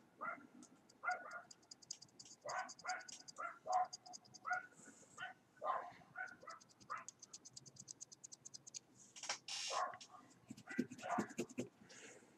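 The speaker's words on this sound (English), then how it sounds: "my neighbors have their dogs out and they're just playing around, barking" Neighbours' dogs bark in quick irregular bursts outdoors while playing, moderately distant yelps and woofs repeating through the stretch, with a few louder barks near the end.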